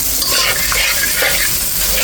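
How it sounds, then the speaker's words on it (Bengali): Spice paste and homemade sour yogurt sautéing for doi potol, a Bengali pointed gourd curry, with a steady close sizzle and the scrape of stirring running through without a break, no voices. "মশলাটা কষিয়ে নিলাম, হাতে তৈরি করা টক দইটা দিয়ে দিলাম। এখন আমি একটু কষিয়ে নিচ্ছি।"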